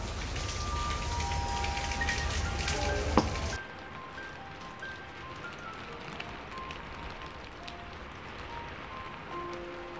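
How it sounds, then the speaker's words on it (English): Heavy rain from Cyclone Yaas pours steadily on surfaces, a dense hiss that is loud at first and then drops to a softer, even patter with scattered drips. "It's raining so much"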